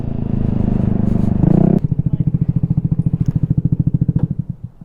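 A Vespa Sprint 150 scooter engine revs up, then settles into a rapid, rhythmic putter that gradually slows and fades near the end.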